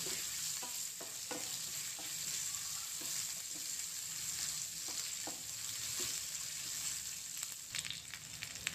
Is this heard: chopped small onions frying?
yes